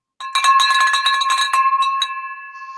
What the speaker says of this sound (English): I've been waiting for that bell for so long